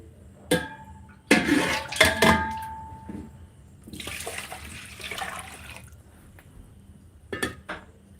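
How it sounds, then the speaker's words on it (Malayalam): Water running indoors in short bursts, with loud splashing gushes, clinks of dishes and a steadier trickling stretch midway, close by and without speech. "വെള്ളം ശബ്ദമാണ്"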